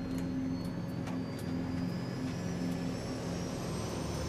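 Engines of a Saab 340 twin-turboprop commuter airliner at takeoff power, a loud, steady roar with a sustained propeller drone and a rising whine filling the whole stretch without any talk.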